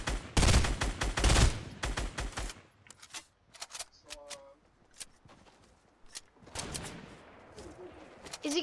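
Rapid bursts of video game gunfire crack out loudly in the opening seconds, followed by scattered lighter shots and clicks, then a renewed rush of noisy action near the end.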